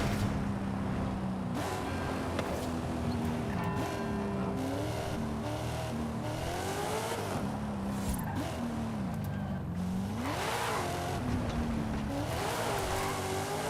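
A car driven through city streets in Forza Horizon 5 revs hard, its engine pitch climbing and dropping through repeated gear changes and accelerations, with occasional tire squeal, loud and close throughout.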